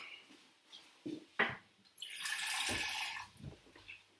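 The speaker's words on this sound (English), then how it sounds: "I'll put a wee drop of water into it" Water poured into a pan of pasta and prawn sauce, a steady broadband rush of about a second and a half after a few soft clanks, then tapering off.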